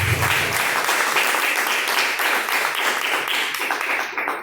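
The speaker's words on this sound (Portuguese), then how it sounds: "Palmas que louvam o nome do Senhor." A church congregation at a Pentecostal service claps in loud, dense, continuous applause that fills the room for several seconds.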